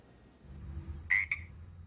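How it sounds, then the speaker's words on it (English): Tiny Sierra tree frogs croak indoors in a house, two short bright calls in quick succession over a low background hum. "Dozens and dozens of tiny frogs invading a family's home in Wilton."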